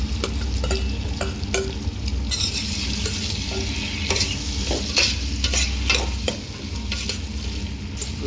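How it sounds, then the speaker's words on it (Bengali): Potatoes and carrots fry in a pot of oil for chicken khichuri, hissing and sizzling steadily up close, while a spoon stirs and scrapes against the pot in repeated clattering strokes. "এখন দিচ্ছি আলু এবং গাজরটা"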